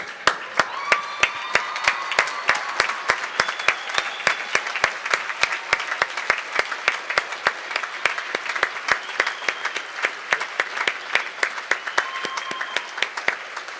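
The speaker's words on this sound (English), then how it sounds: "give you all a round of applause." A graduation ceremony audience applauding steadily, dense sustained clapping from a large crowd in a hall with a few louder individual claps standing out, continuing without a break.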